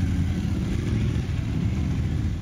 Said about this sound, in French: Les participants sont ensuite montés sur leur moto pour se rendre sur le lieu d'entraînement.